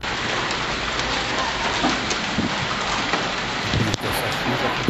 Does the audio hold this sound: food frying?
no